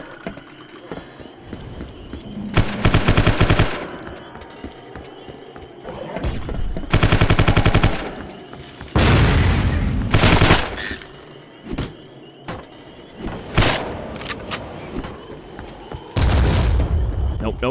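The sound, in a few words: enemy gunfire in the video game Vivisector: Beast Within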